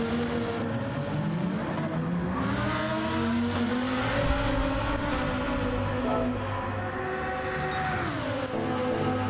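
Race cars in Gran Turismo roaring around a circuit, several engines droning and rising in pitch through gear changes, steady and loud with tyre noise and no talk over them.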